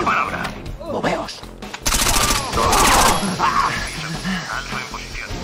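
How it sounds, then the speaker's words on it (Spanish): Gunfire in the video game Rainbow Six Vegas 2 erupts in loud, rapid automatic bursts mixed with shouted dialogue and game effects, the heaviest volley in the middle. "¡Disparos!"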